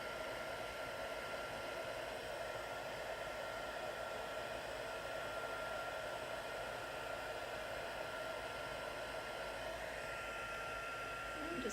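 A heat tool blows continuously and steadily at close range while melting embossing over a stamped Christmas image, a constant loud whoosh with no talking.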